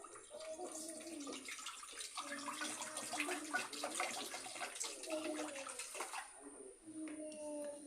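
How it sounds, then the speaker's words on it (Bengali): Water pours steadily into a pot on a gas stove for several seconds, a continuous splashing stream with brief pauses, heard up close while oil is set out for making a jujube pickle. "এখানে আমি জল দিয়ে দেব"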